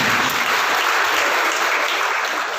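An audience claps loudly for a correct answer at an Indian Freedom Movement quiz competition, a thick, continuous burst of applause holding steady from start to finish.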